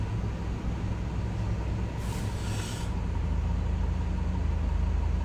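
Steady low road rumble and engine drone from a car being driven, continuous throughout with a brief hiss of air or passing traffic midway; no talking.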